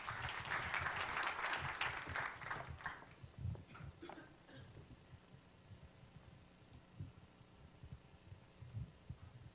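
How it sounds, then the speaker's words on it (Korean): A seminar audience at a startup forum claps to welcome a lawyer to the stage: a short burst of fairly quiet applause for about three seconds that quickly dies away into a hushed room with faint footsteps and shuffling. "박수로 모실게요."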